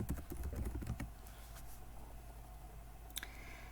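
Rapid, quiet keystrokes patter on a computer keyboard during the first second, then stop, leaving a low steady hum with a single faint click near the end.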